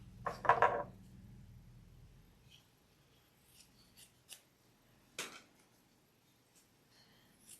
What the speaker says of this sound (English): I'm going to cut the extra off.